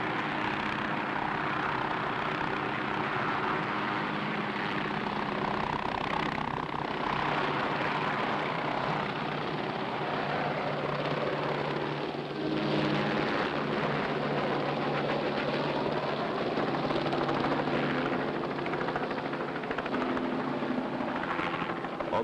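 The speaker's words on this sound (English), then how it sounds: "Now, here come the choppers, man." Firefighting helicopters fly overhead at an out-of-control forest wildfire, a steady loud rotor and engine drone holding throughout with slight swells as they pass, no voices.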